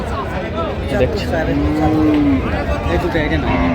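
Cattle moo in long low calls amid a noisy crowd of animals at a cattle market in Brahmanbaria, close by, with steady background chatter.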